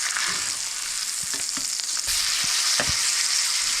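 A freshwater redfish fillet sizzles loudly and steadily in a hot pan, with a few soft scraping knocks as the thinner piece is turned over, close by and with no voices.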